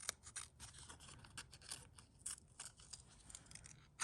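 Scissors snip through sheets of water transfer nail art stickers at close range, a quick run of small crisp cuts and paper rustles repeating steadily with no talking.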